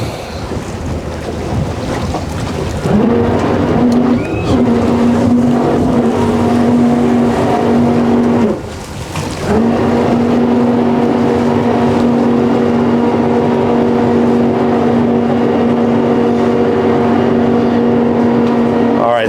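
A Saxdor 320GTO motorboat engine drones steadily at low pitch while the boat manoeuvres in a marina. The engine dips briefly mid-way, then resumes under strong wind buffeting the microphone.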